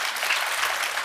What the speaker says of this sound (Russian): Вот просто аплодисменты именно за это.